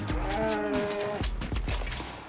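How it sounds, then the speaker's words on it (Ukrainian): Cows on a farm in the video game Red Dead Online let out a long, loud moo that drops in pitch, followed by rustling and softer background sounds, with no talk. "Тут у нас корови, вівці, кози."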